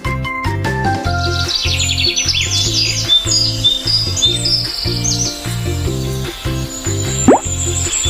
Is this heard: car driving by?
no